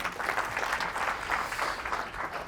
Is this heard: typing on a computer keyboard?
no